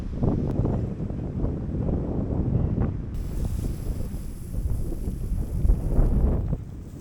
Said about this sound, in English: Here comes another big gust of wind.